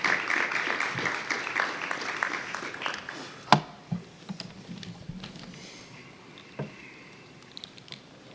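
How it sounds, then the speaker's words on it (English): Audience applause for panelists at a patient-focused drug development meeting, a dense wash of clapping that starts loud and gradually thins and fades, with a few scattered late claps near the end. "we're going to give them one more round of applause"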